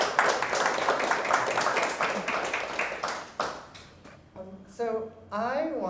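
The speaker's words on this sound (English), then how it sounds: "you can give them a round of applause" An audience at an artist talk claps together, a dense steady patter of hands that fades out after a few seconds, followed by a speaking voice close by.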